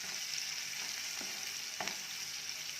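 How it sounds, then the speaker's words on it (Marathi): Finely chopped onion with a pinch of salt frying in a pan, a steady broadband sizzle with a couple of soft stirring scrapes, close and continuous with no talking. "कांद्याचा रंग बदल्यापर्यंत छान भाजून घेऊया"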